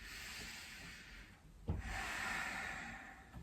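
Slow, deep breathing during a yoga downward-facing dog: a long, soft airy inhale fading out, then a sharp catch and a drawn-out exhale, close and quiet.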